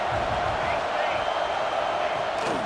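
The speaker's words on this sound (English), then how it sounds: "This crowd knows when to bring it." A stadium crowd at an Ohio State versus Northwestern college football game keeps up a continuous, loud, broad roar of cheering, filling the whole stretch evenly.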